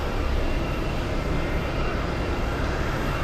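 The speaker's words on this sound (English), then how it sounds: "A possible takeoff on runway 4 right." An airliner taking off on runway 4 right at Boston Logan International Airport gives a steady, even engine roar that holds at one level throughout, with no talk over it.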